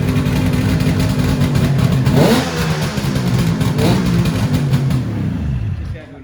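A Kawasaki Ninja H2 motorcycle engine with an aftermarket exhaust revs loudly close by, rising and falling in pitch a couple of times before dropping away at the end.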